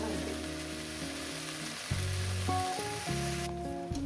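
Shrimp and water spinach frying together in a pan, a steady, moderate sizzle that continues evenly, accompanied by background music.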